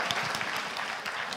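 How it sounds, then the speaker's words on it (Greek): Applause from an audience thanking the first volunteer at a talk, a steady dense patter of many hands clapping throughout, fairly close and with no voices over it. "Ένα χειροκρότημα στην πρώτη εθελόντρια."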